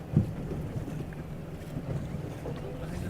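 A boat cruises slowly below sea cliffs near Cromarty, giving a low steady water and hull rumble with wind buffeting the microphone and a soft knock near the start.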